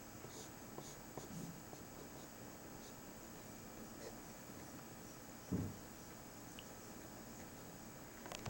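A pen scratches across paper as Donald Duck is drawn at Disney's Hollywood Studios Animation Academy, a faint steady scribbling close up under a quiet room hiss, with one brief thump partway through.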